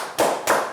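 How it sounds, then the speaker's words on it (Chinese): Two or three quick, sharp hand claps ring out close by, loud and separated by brief pauses, on a lighthearted quiz show at a guesthouse. "好，鼓掌"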